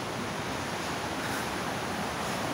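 A river in a nature park flows in a steady, broad rushing wash, close and continuous with no breaks.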